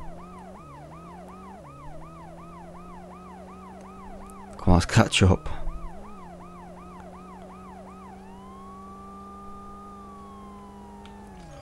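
Police sirens wail in a looping rise-and-fall pattern in the World's Scariest Police Chases video game, over engine hum, with a brief burst of crash noise midway and someone speaking briefly.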